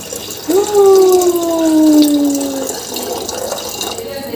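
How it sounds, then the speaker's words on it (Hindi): Water is poured into dal in a cooking pot, a loud gurgling stream starting abruptly and tapering off with a falling pitch as the vessel fills, followed by faint splashing. "पानी"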